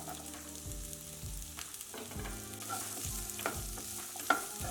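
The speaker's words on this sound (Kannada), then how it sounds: "ಹುರ್ಕೊಳ್ಳೋಣ ತರಕಾರಿನ." Capsicum, carrot, beans, peas and tomato stirring and sizzling in a hot pan over high flame for vegetable pulao, a steady close crackle with rhythmic scraping strokes and one sharp clink near the end.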